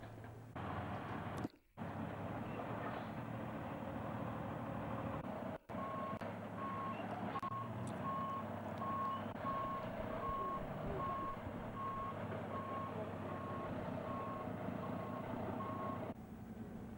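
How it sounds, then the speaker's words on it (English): A truck's reversing alarm beeps in a steady, evenly spaced series over a loud, continuous diesel engine rumble, with a couple of brief dropouts early on. "Now the truck's moved into a new position."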